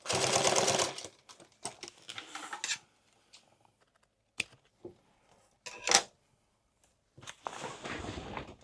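Sewing machine stitching an XL tool bag, a loud rapid stitching run at the start followed by scattered clicks and handling taps, then another short burst of stitching at the end.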